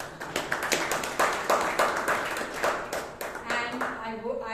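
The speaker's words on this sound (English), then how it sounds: "It's a lot of applause." People at a Bangalore Toastmasters meeting clap in a small room, a few distinct near hands beating in an uneven rhythm that thins out as a voice starts speaking at the end.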